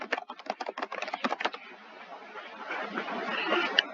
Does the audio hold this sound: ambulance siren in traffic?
no